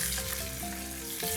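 Chicken Maryland, leg and thigh attached, laid into a hot pan, sizzling loudly and steadily with bright crackling frying noise throughout.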